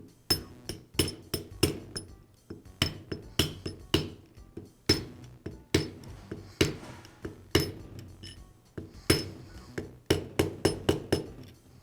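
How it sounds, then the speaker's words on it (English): Bearing tapped onto a gear with a socket during a Milwaukee reciprocating saw repair: a long series of sharp metallic taps, close and clear, coming in quick clusters with short pauses. "I'll place it over the gear and use a socket to tap it into place."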